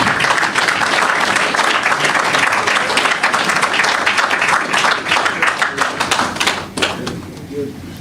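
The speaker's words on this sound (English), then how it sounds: "A round of applause again for the PM." An audience at a farmers' insurance scheme launch bursts into sustained applause, dense rapid clapping that holds strong for several seconds before thinning out near the end, with some voices mixed in.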